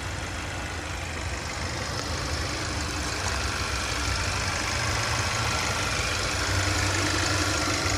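A 2012 Kia Optima SX's turbocharged direct-injection 2.0 liter engine idles steadily with a low, even hum and faint knocking texture, no voices.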